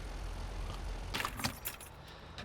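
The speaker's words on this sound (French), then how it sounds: "Oh, éteindre le moteur." A car engine in Watch Dogs is switched off: the steady low idle rumble cuts out, followed by a brief cluster of metallic clicks and jingles, then near quiet.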